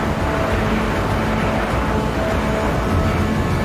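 A Porsche 911 RSR race car engine in a racing video game roars loudly and steadily at full throttle throughout without dropping off, at the 1966 Monza road course, with broadband rumble and no talking.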